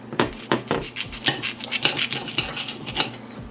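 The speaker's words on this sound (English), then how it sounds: "All right, guys, look at this roast. It's time to cut it." A knife slices a vegan turkey roast on a hard surface, giving a series of sharp clicks and scrapes in an uneven rhythm, close and fairly quiet, with no voices.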